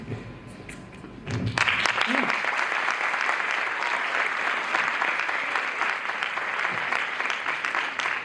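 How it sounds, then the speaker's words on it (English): A round of applause from an audience at a conversation event, starting abruptly after a quiet moment and then holding as dense, even clapping for several seconds. "that's the round of applause you're getting"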